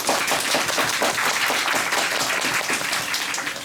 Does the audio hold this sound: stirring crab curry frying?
no